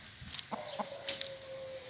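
Fighting cocks, including a white rooster, give a few short, scattered clucks close by, with a thin steady whistle-like tone running underneath.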